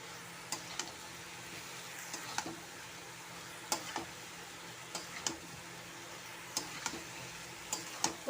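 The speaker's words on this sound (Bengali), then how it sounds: "চিকেনটা কষিয়ে নিচ্ছি।" Chicken and fried potatoes are sautéed and stirred in a pan: soft sizzling underneath, with faint scraping strokes at irregular intervals.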